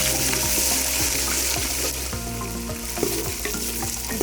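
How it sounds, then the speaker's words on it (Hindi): Ginger garlic paste fries with browned onions in a pan, giving a steady close sizzle with occasional stirring scrapes and clinks, and no talk. "अब इसमें मैं ये अदरक लहसुन का पेस्ट डाल देती हूँ।"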